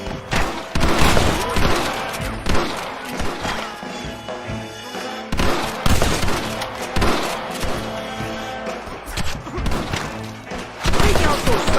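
Gunfire in the video game Red Dead Redemption: dense, loud bursts of shots and impacts in continuous rapid volleys, with voices shouting over the battle.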